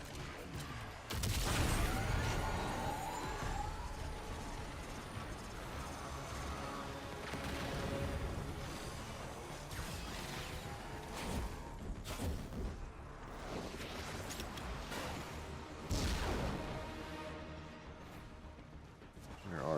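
Gunfire from the Warframe video game: dense rapid bursts of shots and weapon whooshes, loud and close, continuing with brief lulls throughout.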